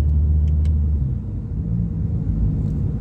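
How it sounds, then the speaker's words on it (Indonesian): A Honda Jazz RS with an automatic tiptronic gearbox gives a low, steady engine rumble from inside the car, with a brief deeper surge near the start that fits a throttle blip on a downshift. "jadi saat kita kurangin gigi itu bisa kita blip terus beletak-beletak gitu sih"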